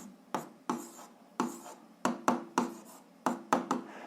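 A hand writes out an algebra equation, giving rhythmic scratchy strokes in short bursts with brief pauses between them, close and quiet with no voices.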